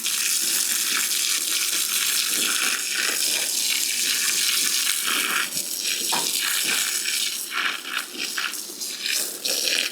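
A garden hose runs water onto heavy clay soil around a plant's root mass in a cottage garden, giving a steady close hiss and splatter that continues without a break throughout, with no talking.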